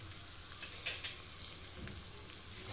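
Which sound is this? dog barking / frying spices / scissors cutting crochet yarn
frying spices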